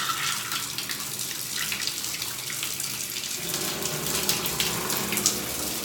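Water gushing steadily from a bathtub spout with a leaking diverter while the shower is switched on, the shower head removed; a loud, continuous, close rushing splash with no voices.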